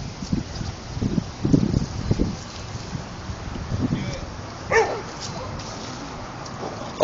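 A dog gives a few short barks and whimpers outdoors at night amid a protest camp with passing officers, the sounds mid-distance over windy background noise while people talk nearby.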